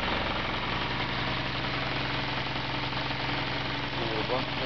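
A Volkswagen Passat with a swapped 1.8 turbo engine idles, a steady low rumbling hum with even pulsing, close and continuous.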